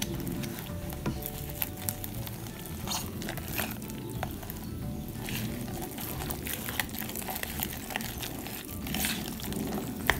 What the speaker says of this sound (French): il faut venir mélanger le tout